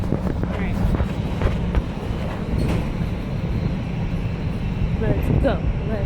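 A Chicago CTA Red Line train rumbles close by, giving a loud, continuous low roar with rattling and clatter, while faint voices are heard in the background.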